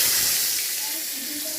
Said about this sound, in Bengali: আলুটা ভাজছি।